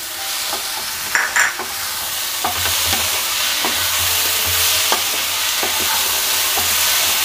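Lentils shallow-fry in a pan as tomatoes go in, a bright hiss of oil with a few clattering knocks as pieces drop, then a steady close sizzle and light stirring scrapes.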